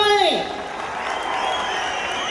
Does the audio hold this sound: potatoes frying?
no